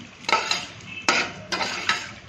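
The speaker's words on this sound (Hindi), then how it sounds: "मसाला जैसा हमारा भुनने लगा, हम इसके अंदर प्याज ऐड करेंगे। अब हमें प्याज को हल्का सा ब्राउन करना है।" Onions fry in a pan of masala while a spoon stirs them, scraping and clinking against the metal in a few distinct strokes over a soft sizzle, close and fairly quiet.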